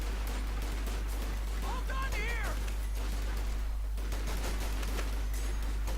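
BAR rifle gunfire in Company of Heroes 2 rattles in repeated bursts over a constant low battlefield hum, with short whistling tones midway, while a voice talks over the action.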